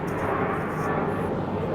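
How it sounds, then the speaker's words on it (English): A plane coming in to land at Lindbergh Field in San Diego on a rainy day, heard as a steady broadband engine roar that stays loud and even throughout. "that's Lindbergh Field over there where the plane's landing"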